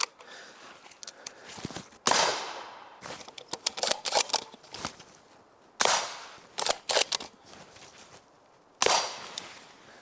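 A Q Fix rifle in 8.6 Blackout fires at a ballistic plate from 10 yards, giving three loud, sharp reports spaced a few seconds apart, with clicks and handling noises between the shots.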